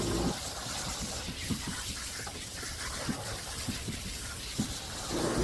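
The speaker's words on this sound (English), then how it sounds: "I'm just rinsing off the conditioner." Steady rushing spray of water rinsing conditioner off a Cairn Terrier runs continuously, a broad hiss with small splashes and knocks, fairly close and unbroken throughout.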